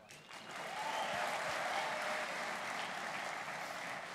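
An audience at a talk by Olympic shooter Gagan Narang breaks into sustained clapping, steady and fairly distant, swelling after a quiet start and holding evenly to the end.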